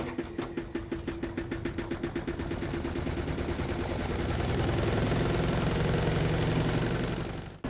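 A 5 kW military diesel generator cranks with rapid rhythmic chugs, then catches and settles into a loud, steady, throbbing run close by, with no talking.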